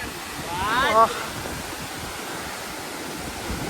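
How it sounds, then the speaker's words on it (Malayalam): Steady broadband wind rush at Hebbe Falls, Chikmagalur, with a constant roaring hiss, a brief voice-like tonal sound near the start, then continuous blustery noise. "നല്ല നല്ല കാറ്റും ഉണ്ട് കേട്ടോ അവിടെ"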